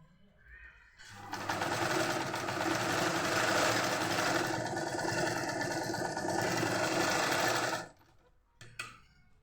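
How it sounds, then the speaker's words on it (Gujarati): Sewing machine stitching a fabric hand purse, running in one loud, steady, close burst of about seven seconds. It then stops, followed by a couple of faint handling clicks. "હવે આપણે એ રીતના અહીંયા પણ આપણે સિલાઈ લગાવી દેવાની છે"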